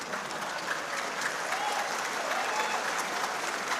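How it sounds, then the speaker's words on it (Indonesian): A crowd applauds during a political speech at a national organizational meeting in Indonesia. The clapping is steady and evenly sustained from a large audience, heard from a distance and fairly faint throughout. "Tenang, tepuk tangan lagi. Ya, tepuk tangannya keras tambahi."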